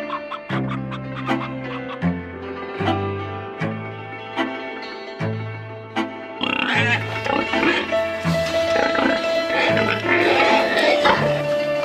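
Pig squeals and grunts at a traditional village pig slaughter, repeated loud calls over a tonal music bed, becoming denser and busier in the second half.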